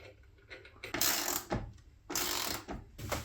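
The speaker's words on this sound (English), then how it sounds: "This is the timber working vise that I got." A timber-working vise is adjusted in a workshop with a few close mechanical clunks and ratcheting scrapes. Several short bursts come within a few seconds, with no talking.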